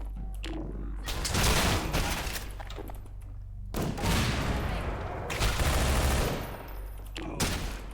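Automatic gunfire in the shooter game Half-Life 2: Entropy Zero: loud, dense bursts of rapid shots with short pauses between them, booming close up with rattling tails.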